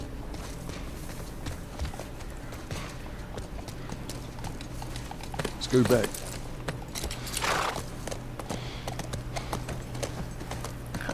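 Horse hooves clip-clopping in The Last of Us Part I, a slow walking rhythm of soft hoof falls under a steady low game ambience, with a louder burst midway and a brief spoken line.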